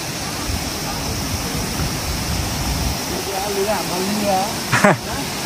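The Hamkhola waterfall pours in a steady, dense roar close by. Voices talk briefly over the rushing water near the end.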